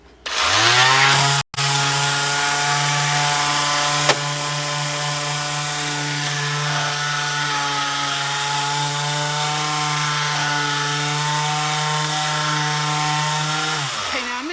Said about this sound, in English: You're just sanding that gloss off so that you've got some teeth for the finish to bite on it.